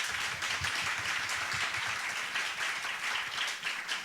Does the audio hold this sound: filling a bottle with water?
no